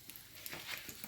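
Dried fish fries in oil with chili powder, a soft crackling sizzle with small stirring scrapes, faint and close, heard alone for about a second.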